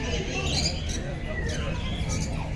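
Birds calling and chirping in a walk-through aviary tunnel at Alipore Zoo, with peacocks nearby and birds flying together; several overlapping tweets and squawks rise over a steady, busy crowd murmur and background noise.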